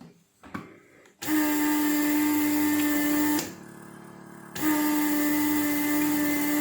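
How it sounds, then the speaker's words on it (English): The separate vacuum pump of a Weller WR3M desoldering station runs with a loud, steady mechanical hum and whine, briefly dropping in level before returning, after a short quiet start. "So this pump is working separately, this pump is working separately"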